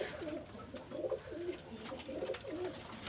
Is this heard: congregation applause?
no